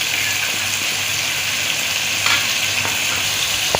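Ginger, garlic and green chili paste sizzles loudly with mutton in a pan, a steady close hiss and crackle with faint stirring scrapes throughout and no talking.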